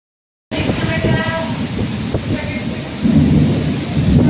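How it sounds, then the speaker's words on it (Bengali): Heavy rain roars steadily under gusty wind in a Kalbaishakhi (nor'wester) storm, with low thunder rumbling through the downpour; a faint voice is briefly audible underneath. "কি বৃষ্টি আর তেমনি ঝড়, ঝড় বৃষ্টি এটাকেই বলে, কাল বৈশাখী ঝড় বৃষ্টি।"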